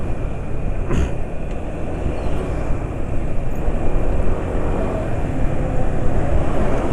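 A two-stroke motorcycle engine runs on a mix of Xten double ester oil and 140 gear oil, giving a steady, close, continuous drone that holds a fairly even level throughout with no talking.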